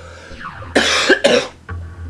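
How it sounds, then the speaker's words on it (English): Two harsh, close coughs in quick succession, followed by a short throat-clearing rasp. "Yep, another cough."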